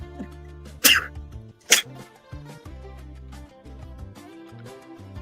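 A single abrupt sneeze-like burst near the start, then a second sharp one about a second later, both loud and set against steady background music with no talking.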